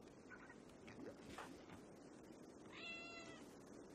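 A cat's meow from Rimworld, faint and short, two soft mewing calls with a clearer drawn-out meow near the end over low background hiss.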